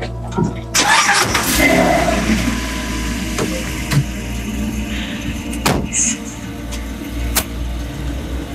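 A car's engine turns over and starts, then revs and pulls away, with a door thud near the start and a few sharp knocks, all loud and close with no clear speech.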